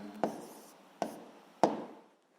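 A pen or pencil writes an answer to a physics problem on paper, three short scratchy strokes spaced about a second apart, close and fairly faint.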